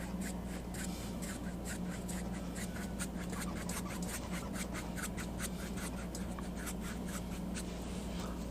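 A paintbrush blends paint across a canvas in a steady series of soft scratchy strokes, close and quiet, with no talking.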